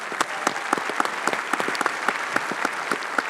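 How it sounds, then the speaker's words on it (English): Applause from the audience at a film preservation event, a moderate, steady patter of many hands with a few distinct claps popping out. "Give Margaret a round of applause"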